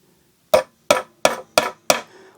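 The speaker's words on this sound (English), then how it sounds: "Left-handed finish nail into wood." A finish nail is driven into wood with a hammer, held left-handed: five sharp, close strikes at a steady pace, the last ringing out a little longer.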